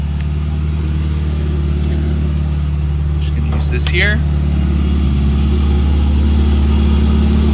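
A 2020 Ferrari 488 Pista engine runs loudly with a steady low rumble and a slight rise in pitch, heard close up in the engine compartment while people talk over it.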